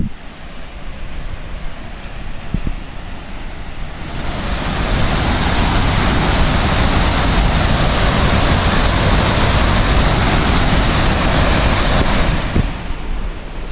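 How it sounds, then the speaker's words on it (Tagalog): Seven Falls waterfall in the Philippines roaring loud and close, a dense rushing wash that surges in around four seconds, holds steady, then drops back to a softer background near the end. "Seven falls po ito."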